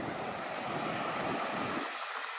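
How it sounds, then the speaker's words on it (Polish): Large waves break on a Zakynthos beach in strong wind, a loud, continuous roar of surf mixed with gusty wind buffeting the microphone, with no voices. "Dzisiaj jest duża fala, co widać"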